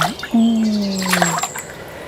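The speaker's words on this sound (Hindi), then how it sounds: "पानी डालते हैं।" Water is poured from a heavy bucket onto sand in a small diorama for a farm scene, splashing and trickling nearby, with whistly tonal sounds layered over it.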